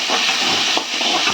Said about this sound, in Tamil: கொஞ்சம் நல்லா வதக்கிடலாம்.